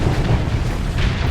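A sustained, dense rumble of missile and bomb explosions from the space video game Starsector, loud and continuous with low booming energy throughout and no distinct gaps.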